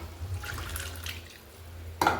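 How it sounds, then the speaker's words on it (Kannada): Water trickles and splashes into a mixer jar in short pours, with a brief clatter near the end; no one speaks. "ಇವಾಗ ನಮಗೆ ನೀರು ಸೇರಿಸ್ಕೊಳ್ಳೋಣ"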